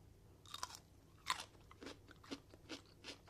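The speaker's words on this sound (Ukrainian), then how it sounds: "Навіть я вам зараз скуштую і ви почуєте, який хрумкіт." Crisp, wet crunching bites of lightly salted pickled cucumber close to the listener, about six sharp crunches in a steady chewing rhythm, with no talking.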